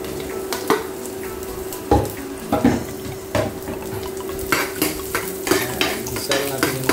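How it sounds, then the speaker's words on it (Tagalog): Meat is sautéed with onion and garlic in an oiled pan, with steady scraping and clinking of a utensil stirring against the pan over a faint sizzle. "ito na yung gisahin natin yung mga meat. So lagyan natin yung sibuyas at saka yung bawang"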